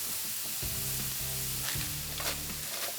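English peas, edamame and other vegetables frying in oil on a griddle for cauliflower fried rice, a steady close sizzle with stirring clatter partway through.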